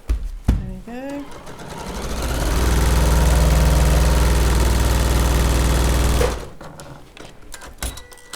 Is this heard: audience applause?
no